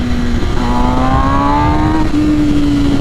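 A 2021 MV Agusta Rush motorcycle with a BT Moto ECU flash tune, its engine droning loud and steady at high revs on a dyno, pitch creeping slightly upward, with no voices.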